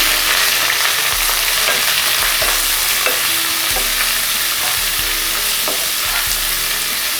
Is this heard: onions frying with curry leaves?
yes